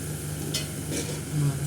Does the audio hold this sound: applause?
no